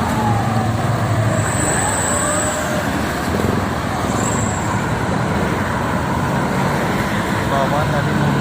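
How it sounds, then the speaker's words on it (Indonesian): Steady roadway drone of a jammed toll road heading toward Jakarta after a crash, continuous engine and tyre rumble with faint tones, voices talking over it. "Arah Jakarta macet."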